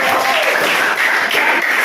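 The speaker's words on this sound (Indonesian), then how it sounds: "tepuk tangan untuk" A short burst of loud, dense clapping from a congregation during a Christian sermon on the family, continuous for under two seconds.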